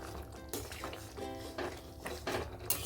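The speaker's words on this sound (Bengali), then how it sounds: "এখন উপর থেকে ধনেপাতা দিয়ে দিলাম, দিয়ে একটু নাড়াচাড়া করে দেবো।" Potato dum being stirred after coriander leaves go in, soft scraping and light clinks of a spoon against the pot, quiet and close with a faint low hum beneath.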